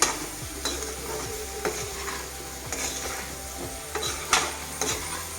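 Pickle with asafoetida powder being stirred in a pan: a soft sizzle runs underneath while the spoon scrapes and knocks against the pan in irregular strokes.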